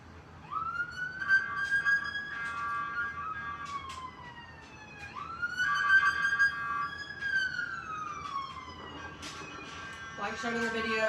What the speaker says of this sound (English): You will also hear the siren and the horn.